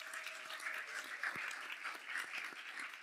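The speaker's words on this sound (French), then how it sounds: "Donnons une acclamation, frère" Applause for a visiting guest from Jamaica at a church gathering led by a pastor, a steady wash of many hands clapping at moderate distance that fills the room evenly throughout.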